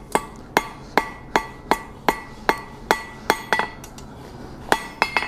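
Hot metal for a camping fork rings under a forging hammer, a dozen sharp, bright strikes in a steady rhythm with a brief pause and a quick double hit near the end, close up and alone.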